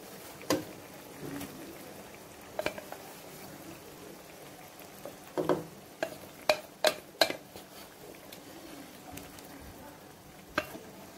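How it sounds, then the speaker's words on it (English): Cooked vegetables go into a simmering Malaysian vegetable kurma curry, giving scattered clinks and stirring scrapes over a soft bubbling bed, with a quick cluster of sharp taps near the middle. "at this point we're going to add in the cooked vegetables"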